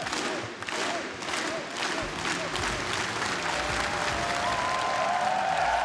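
An esports arena crowd at the Utopia Coliseum world championship applauds loudly and continuously, a dense roar of clapping and cheering that stays at full strength throughout.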